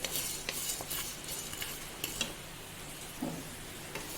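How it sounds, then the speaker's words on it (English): Coriander frying in a pan for a Goan chicken xacuti, a soft steady sizzle broken by scattered clicks and scrapes of stirring. "Frying the coriander."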